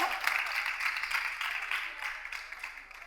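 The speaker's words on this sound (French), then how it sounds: "bravo, on peut l'applaudir très fort." The studio audience of a dating show gives warm applause to a bachelor arriving on stage, steady moderate clapping with a voice faintly mixed in.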